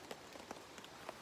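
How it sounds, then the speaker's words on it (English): Rain patters on a tarp at a wilderness camp in North Carolina's Shining Rock Wilderness, scattered soft drops tapping faintly over a quiet steady background. "it just looks like the rain's here for the rest of the day and probably tonight and tomorrow"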